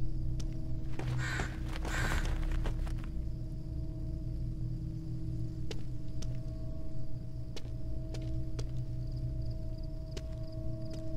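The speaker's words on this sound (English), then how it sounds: "Is that a crested miner or a crow? It's so loud." Loud crow caws in a burst near the start from a bird in the game The Bridge Curse, set against a steady low ambient hum with faint clicks, then quieter surroundings.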